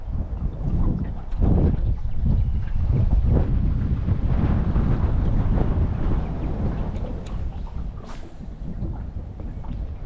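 Strong wind buffets the microphone by the water during tidal fishing, a constant loud low rumble with gusts that swell and ease.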